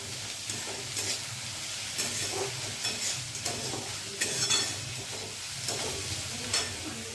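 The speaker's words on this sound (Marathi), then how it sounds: "हे बघा अशी मी परतून घेते" Sautéing in a pan while making Khandeshi brinjal bharit, a soft sizzle runs throughout, punctuated by repeated scraping stirs and spatula clinks at irregular intervals, fairly quiet and close.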